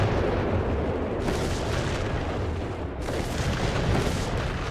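Continuous loud rumbling battle din from Company of Heroes 3, with dense overlapping booms of grenade and artillery-like explosions filling the whole stretch with no clear gaps.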